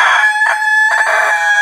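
A pet rooster crows loudly and close by on command, a single sustained cock-a-doodle-doo with no talking.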